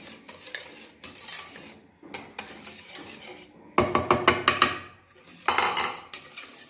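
A spoon clinks and scrapes around a bowl, mixing yogurt into a fried chicken marinade, in several bursts of rapid, close rhythmic clatter separated by short pauses.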